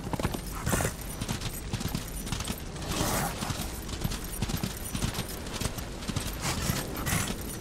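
Horse galloping in the video game Darksiders Warmastered Edition, rapid continuous hoofbeats pounding loudly throughout with a dense rattling, clattering texture and no speech over it.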